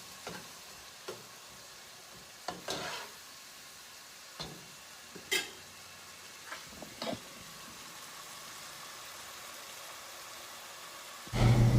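Spicy meat pie filling cooks down in a pan with a soft, steady sizzle, broken by a few sharp clicks and clatters of stirring, then a loud bump at the very end.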